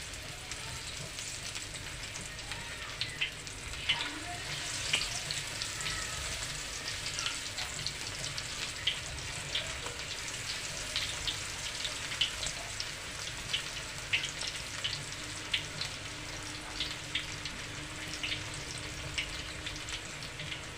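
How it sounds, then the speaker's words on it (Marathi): Alu vadi slices frying in hot oil give off a steady, dense sizzle with fine crackling spatters throughout, moderately close and unbroken by any voice. "आता मी वड्या सोडणार आहे त्याच्यामध्ये"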